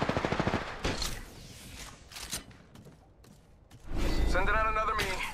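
Automatic weapon fire in the video game Apex Legends, several sharp bursts of rapid shots, loud and close, with a quieter stretch in between before a final heavy burst.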